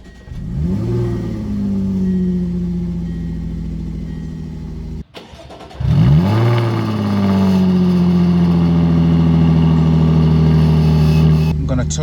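A Jaguar F-Type engine cranking and catching, rising in a revving roar that settles to a loud idle, then cutting out and firing up again into another strong rev and steady idle, close by.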